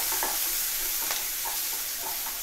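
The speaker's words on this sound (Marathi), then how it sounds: "कांदो आणि तेजपत्तो वाईस ढवळून घेतोय, जास्त लालसर नाही, मऊ जरा केला की झाला." Chopped onion and bay leaf frying in hot oil while being stirred give a close, continuous sizzle with soft scraping stir strokes throughout, and no voices.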